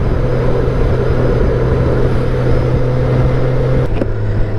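A Honda Goldwing motorcycle fitted with an aftermarket exhaust runs with a loud, deep, steady engine roar close by, holding an even drone throughout with a brief change near the end.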